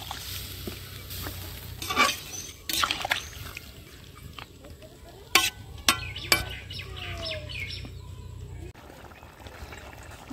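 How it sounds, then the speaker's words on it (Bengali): Water is poured and sloshed into a pan of chicken curry with pointed gourd, a soft liquid rush broken by a few sharp clinks and clatters of a utensil against the pot. "এই পর্যায়ে আমি এখন একটু জল দিব"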